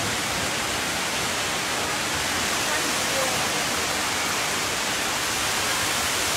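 Steady, loud roar of rushing water from the indoor waterfall at Cloud Forest, Gardens by the Bay, Singapore, a continuous broadband wash with no pauses or other sounds standing out.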